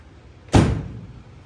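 An old 1966 car door being shut, one solid slam with a short fading rattle, close and alone against a quiet background.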